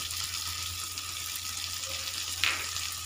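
Gobindobhog rice frying with spices in a pan, giving a steady close sizzle with a brief brighter crackle near the end, with no talking.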